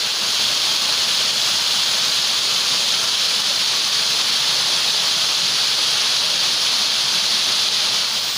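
Dewi Sila waterfall in Ketambe roars in a dense, steady rush of falling water that holds evenly throughout, loud and close with no voices.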